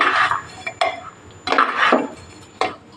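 Rice with cashews and raisins stirred in a pressure cooker pot, a few distinct scraping clatters of a spoon against metal at irregular intervals, close and fairly loud, with no talking.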